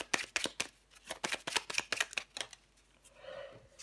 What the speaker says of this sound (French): Je vais prendre encore une carte pour vous,